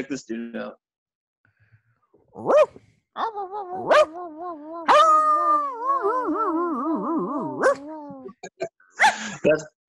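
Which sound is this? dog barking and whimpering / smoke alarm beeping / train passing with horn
dog barking and whimpering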